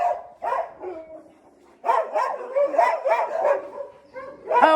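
Several dogs at a mountain shelter housing hundreds of dogs bark and yip in short overlapping bursts, fairly close and loud, with brief pauses between volleys and no talk.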